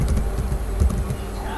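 Fingers typing a password on a computer keyboard, a quick close run of soft, uneven key clicks lasting under two seconds.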